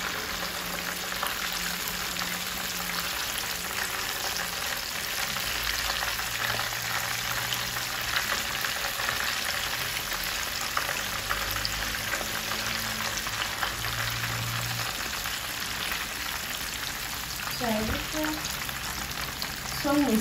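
Croaker fish frying in hot oil gives a steady, dense sizzle and crackle, close and continuous with no talk, plus a few brief clinks and stirring sounds near the end.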